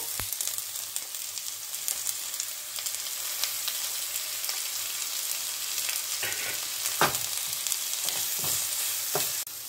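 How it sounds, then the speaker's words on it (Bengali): Sliced onion and capsicum sizzle steadily in hot oil in a kadai, a continuous broadband frying hiss with occasional sharper crackles and pops, close and fairly loud, no voices. "এবার আমি ক্যাপসিকামগুলোকে দিয়ে দিচ্ছি কড়ার মধ্যে।"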